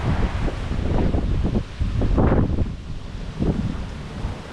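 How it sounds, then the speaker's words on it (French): Wind gusts across a small park with wooden statues on Utila island in Honduras, coming in rough rumbling buffets that swell and ease against the microphone. "Et le vent se lève."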